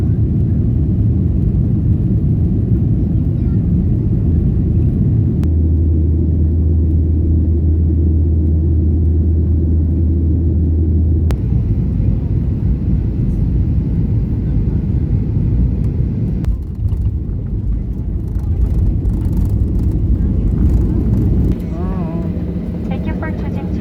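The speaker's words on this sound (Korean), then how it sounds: "우리 비행기는 이제 이륙하겠습니다." Jin Air airliner taking off, heard from inside the cabin as a loud continuous engine roar and rumble that builds and shifts in pitch, with steady tones and brief clicks along the way.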